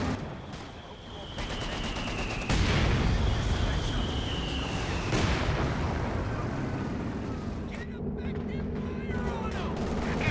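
Anti-tank gun fire and battle noise from Company of Heroes 2, an AT gun hitting a half-track in a 2v2 match: a dense, continuous mix of gunfire, booms and impacts with sharp transients near 2.5 and 5 seconds, loud and sustained under game sounds.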